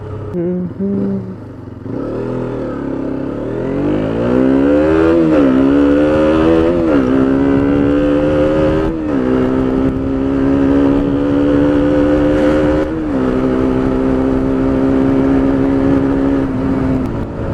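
A KTM Duke 125cc motorcycle engine revs loudly and steadily nearby, its pitch climbing in several surges and settling into a sustained high drone, with no talk over it.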